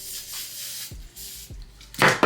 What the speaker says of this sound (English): I'm just going to spray a little bit of holding spray